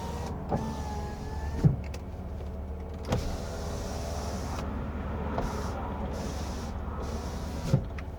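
The power windows of a 1993 Mercedes 190E Sportline 2.6 run up and down, a quiet electric motor whine that ends in firm thumps as the glass stops, repeated several times inside the car.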